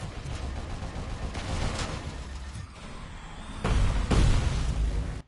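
A gun emplacement fires in the first-person shooter RoboCop: Rogue City, sending out bursts of rapid gunfire and heavy impacts. The shots grow louder and denser near the end, with no speech.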